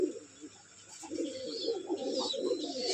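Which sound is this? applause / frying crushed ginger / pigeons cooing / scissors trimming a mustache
pigeons cooing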